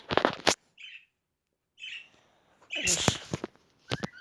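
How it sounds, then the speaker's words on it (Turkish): Pet budgerigars give short, bright chirps in scattered bursts, with quiet gaps and some rustling handling noise between calls. "Burada da bir tane muhabbet kuşlarım var."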